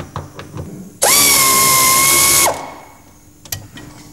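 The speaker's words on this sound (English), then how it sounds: "I'm now going to take out these 5 bolts" A power tool, likely a drill or impact driver, spins out one of five bolts from a car's gearbox support plate, a loud steady whine of about a second and a half between quieter clicks and handling noises.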